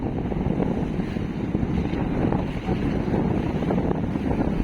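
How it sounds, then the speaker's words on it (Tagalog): A deep, steady single-engine rumble with rushing water and wind buffeting, continuous and close, as a large ship churns past near a small boat. "Grabe kalaking barko, dito lang dumaan sa gilid namin, malapit lang"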